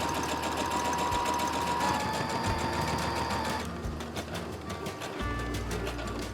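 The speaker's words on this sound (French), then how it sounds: "On vient coudre ensuite tout autour des deux épaisseurs à 5 mm du bord" A sewing machine stitches around two layers of fabric for a reusable food cover, a steady close rapid whirring chatter that pauses briefly a few times and slows near the end, with no talk.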